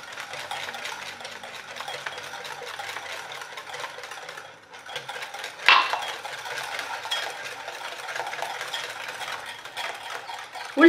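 Oil is poured into cake batter while a mixer runs, giving a soft whirring hum with light clinks and a brief splash-like burst near the middle. No voices are heard.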